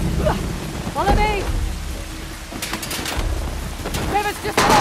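Heavy rain pours steadily in a stormy jungle scene in Uncharted: The Lost Legacy, a constant hiss beneath urgent voices calling out.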